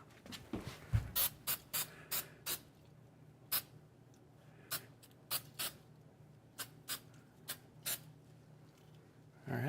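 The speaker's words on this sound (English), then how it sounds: "Now just kind of spritz this." A spray bottle spritzes while a van sliding door is wrapped in upholstery: about fifteen short, crisp bursts in an uneven rhythm, close and clear over a quiet room.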